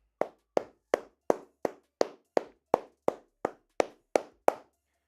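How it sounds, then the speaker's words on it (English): A single pair of hands claps thirteen times at an even, unhurried pace, each sharp clap close and distinct with short gaps of silence between. "Can we get a round of applause for Darius Adams?"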